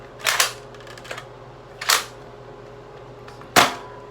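A Nerf Rival Finisher blaster is cocked back and pushed forward, giving three sharp mechanical clacks spaced about 1.5 seconds apart, close and crisp over a quiet background.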